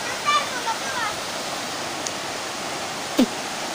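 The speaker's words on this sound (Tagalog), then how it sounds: "Oh, may ilog." A river flowing steadily, a broad continuous rush of water noise filling the whole stretch with a few faint high bird chirps and a short knock over it.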